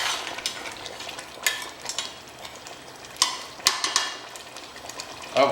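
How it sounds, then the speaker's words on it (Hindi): Spices frying in a pan for a Mughlai chicken curry as they are stirred, steady sizzling with repeated scraping strokes, close and moderately loud with no talk. "इसे बार बार हिलाना पड़ता है, नहीं तो मसाले लगने का"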